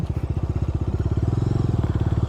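Bajaj Dominar motorcycle riding on village roads, its engine thumping in a fast even pulse that stays loud and close throughout.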